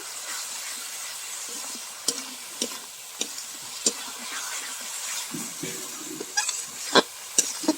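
Chicken frying with spices and Kashmiri red chili powder sizzles steadily in a pan, while a spoon stirs it and adds sharp, periodic scrapes and taps against the metal.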